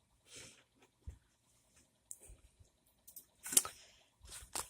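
Typing on a Dell L100 membrane keyboard, with scattered soft key clicks and a few louder, bunched keystrokes, including the spacebar, heard up close and alone.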